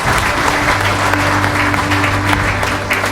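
Graduates clapping at a 2019 graduation ceremony at Newton International College, a loud, dense, continuous round of applause from a large crowd with a low hum underneath.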